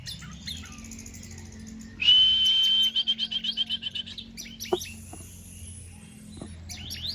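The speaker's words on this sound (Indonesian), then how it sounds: "untuk mempercepat bunyinya burung anis merah itu" An orange-headed thrush sings nearby with a sustained bright whistle, then a rapid series of repeated chirps, followed by scattered softer notes against a quiet background.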